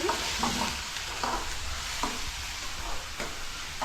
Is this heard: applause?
no